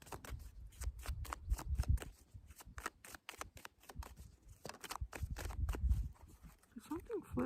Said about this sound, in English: I'm being called to pull 2 more cards